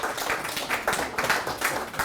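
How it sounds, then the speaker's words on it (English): Steady applause from an audience, dense overlapping claps at moderate level throughout, with no talking. "Let's give these guys a round of applause."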